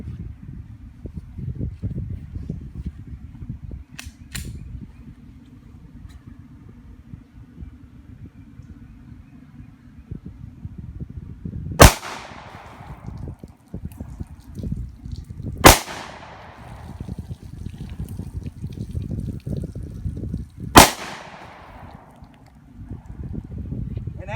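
Three sharp gunshots from a Springfield Armory XDS .45 pistol firing full metal jacket, hollow point and +P rounds into water jugs, each crack spaced a few seconds apart over steady outdoor wind noise, with faint clicks before.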